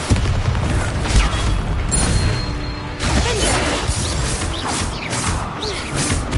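Bombarda explosion spells in the combat of the video game Hogwarts Legacy, a dense continuous stream of booming blasts, crashes and shattering debris close up, loud throughout with no letup.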